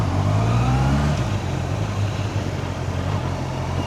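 A Honda CBR 650R motorcycle engine revs in city traffic, a loud, smooth, steady drone that swells slightly at the start and then settles to an even hum.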